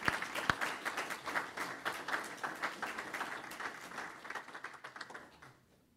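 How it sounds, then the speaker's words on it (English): An audience at a school board meeting claps in a steady burst of moderate applause with individual claps distinct. The clapping thins out and fades away at the end. "One more round of applause for Laura, our two students."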